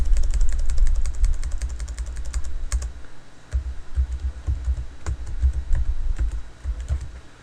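Keys clatter on a computer keyboard as a file name is typed, a quick run of close, crisp taps with brief pauses, over a steady low hum from a nearby machine.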